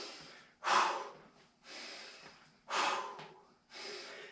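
Four heavy breaths, each a forceful exhale followed by a slower inhale, come in an even rhythm from someone holding a plank against a wall during a workout. The breathing is close and carries alone, with no talk.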